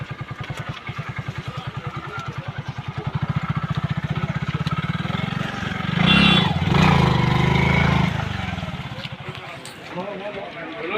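A motorcycle engine idles with a steady, close throbbing pulse, then swells louder around the middle as the bike is parked at a market on a rainy day; it settles back to a quieter idle.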